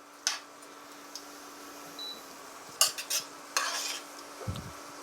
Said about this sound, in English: Anytime you add something, you always want to stir it